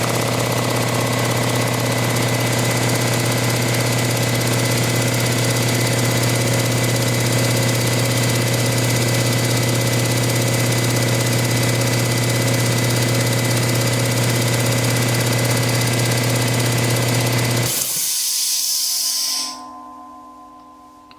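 A 220-volt air compressor runs with a loud, steady humming motor drone that cuts off abruptly near the end, leaving a brief hiss and fading rattle.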